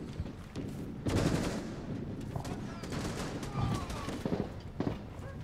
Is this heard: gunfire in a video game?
yes